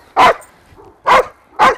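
An Australian Shepherd barks three times while herding sheep during training, loud and close, with short sharp barks spaced unevenly and no talk.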